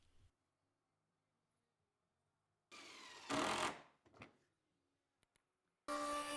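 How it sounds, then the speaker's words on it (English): Wood router rounding over the left, front and right edges of a wooden storage-chair lid, heard in short loud bursts of whine and cutting separated by quiet pauses, with a final burst starting near the end. "Here I'm doing a round over around the left, front, and right sides of the lid"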